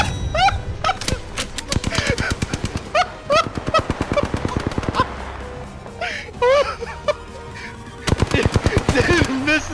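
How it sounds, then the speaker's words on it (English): Prowler weapon in a first-person shooter video game, sounding as loud, rapid automatic gunfire in repeated bursts, with short gaps between volleys and tonal game effects mixed in. "Didn't miss a single shot with the Prowler"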